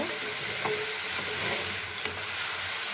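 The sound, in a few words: stirring carrot halwa frying in a covered pan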